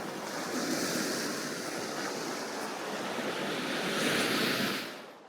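Adriatic Sea waves washing steadily onto the Albanian coast, a continuous broad surf roar with some wind, swelling near the end and then easing off.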